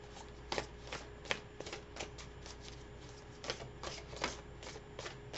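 Tarot cards being shuffled by hand, a soft, close riffling and slapping of card stock in irregular bursts, quiet and alone with no talk.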